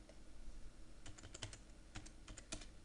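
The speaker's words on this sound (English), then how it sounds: "Then I type in the amount of this invoice." Keys clack on a computer keyboard as an invoice amount is entered into document-filing software, a quiet scatter of separate keystrokes in small clusters, close and clear against a faint steady room hiss.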